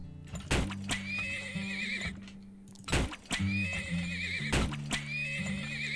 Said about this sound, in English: And we need some horses.